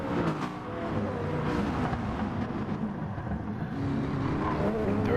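GT4 race cars roar around the Interlagos circuit in a racing video game, a dense, continuous engine drone holding steady and loud throughout.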